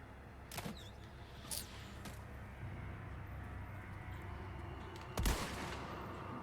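Gunfire in the Resident Evil 4 Remake game: a few sharp shots spaced over several seconds, with a louder blast near the end, over a steady low rumble of game ambience and no talk.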